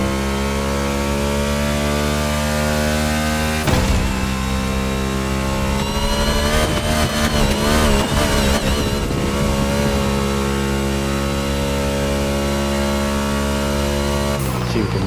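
A NASCAR race car in The Crew Motorfest video game drones with a loud, steady engine tone, revving up and down through gear changes in the middle before settling back to a constant high-pitched roar.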